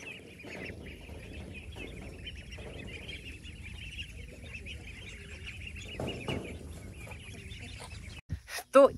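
Young domestic ducklings of mixed sizes quacking and chattering in a continuous busy flock, moderately close, with a brief louder burst at the end.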